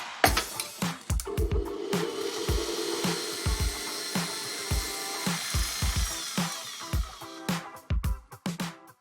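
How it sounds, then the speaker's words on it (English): A kitchen blender blitzes cooled caramel and hazelnuts into a coarse powder, making a loud grinding whir broken by repeated sharp pulses and clattering bursts, with no talking. "Once the caramel and the hazelnuts have cooled down, you can blitz it up into a coarse kind of powder"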